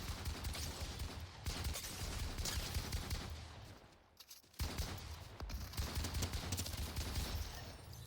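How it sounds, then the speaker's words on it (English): A Fortnite assault rifle firing with a pump shotgun sound, rapid loud gunfire in near-continuous bursts with one brief pause midway. "why is my assault rifle making the pump shotgun sound?"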